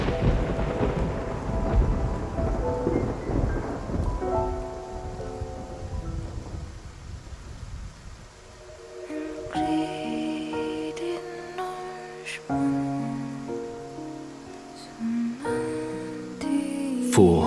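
A thunderstorm with rain at sea in the anime game Love and Deepspace: heavy rain hissing steadily while thunder rumbles and cracks loudly, with dramatic music swelling over the storm in the later part.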